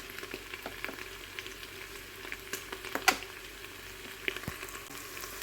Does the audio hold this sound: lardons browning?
yes